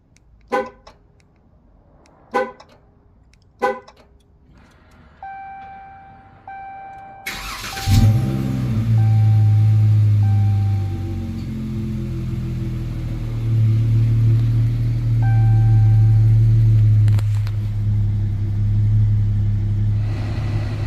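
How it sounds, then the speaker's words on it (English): Three short, sharp Dodge Challenger horn honks in quick succession from a remote start lock press, followed by the engine starting up and settling into a steady, low rumbling idle. "you do have to press the lock 3 times, which it'll honk the horn 3 times"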